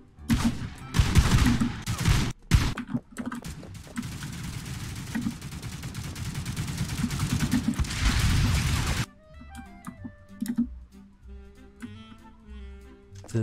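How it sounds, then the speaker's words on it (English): Rapid bursts of gunfire and explosive blasts from the toy-soldier shooter The Mean Greens Plastic Warfare, dense and loud for about nine seconds before dropping to quieter game sounds and music. "Shoot my gun!"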